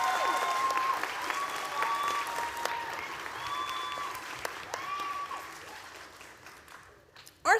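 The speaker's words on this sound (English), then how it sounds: "Let's have a round of applause for the Stranahan High School teachers and staff." A high school graduation crowd applauds its teachers and staff, a broad sustained clapping with scattered whoops and cheers, fading out near the end before a sudden closer bump.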